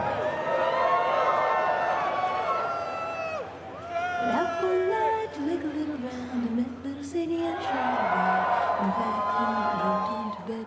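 Large live crowd at a press conference cheering for a Naughty Dog game reveal, roaring with whoops and shouts in two swelling waves, distant and reverberant, with a voice speaking over the middle.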